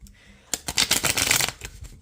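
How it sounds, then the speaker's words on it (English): A tarot card deck being shuffled by hand, one quick, close riffle of cards flapping and rattling that lasts about a second after a short pause. "that kind of shuffling really clears the deck"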